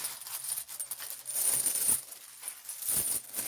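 A deck of tarot cards being shuffled by hand, soft papery riffling and flicking in uneven bursts, close and fairly quiet with no talking.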